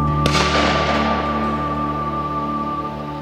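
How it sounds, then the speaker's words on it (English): A shotgun fires once at a pheasant and partridge shoot, a flat, sharp bang close by that decays quickly into open-air ambience with a steady background hum. "That was a real flat, flat bang."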